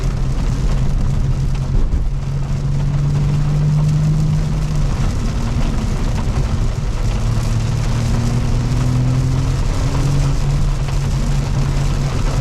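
Heavy rain drums on a car in Los Angeles while it is driven, a steady loud wash of rainfall over low road and engine rumble, with faint tonal hums rising and falling throughout.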